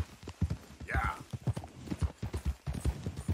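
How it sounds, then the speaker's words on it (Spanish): Horse hooves clip-clop in a steady, evenly spaced walking rhythm in the video game Red Dead Redemption 2, close and clear, with a voice briefly heard over the hoofbeats. "te dan un caballo chafón"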